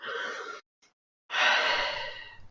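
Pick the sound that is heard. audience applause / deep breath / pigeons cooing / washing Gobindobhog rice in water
deep breath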